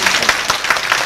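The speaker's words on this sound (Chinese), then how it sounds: "一般讲到这边，应该要掌声鼓励鼓励才对吧？" A crowd at a 2014 science teaching symposium for secondary schools claps together in a dense, continuous burst of applause that holds steady through the short moment, with no speech over it.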